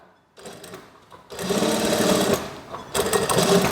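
Sewing machine stitching denim jeans while making a back pocket, running in bursts: a short run, a pause, then a long steady whirr and a final loud burst, close and alone.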